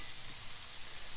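Beef stew pieces browning in a hot skillet over a fire pit, giving a steady, close, continuous hiss and sizzle with no talking.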